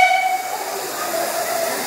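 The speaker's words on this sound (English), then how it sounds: "This is the end of our very exciting trip on the steam train from Blue Anchor." A steam train from Blue Anchor gives off a loud, continuous broadband hiss of escaping steam, with faint whistle-like tones threading through it near the platform.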